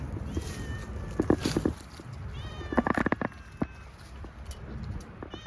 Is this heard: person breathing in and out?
no